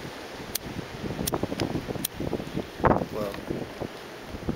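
Gusty blizzard wind buffets the microphone in broadband rushes, with a brief exclamation from a person partway through amid scattered handling noises.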